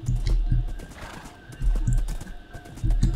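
Horse in the video game Minecraft, with rhythmic clip-clop hoof thuds in short bursts and a whinny between them, close and clear.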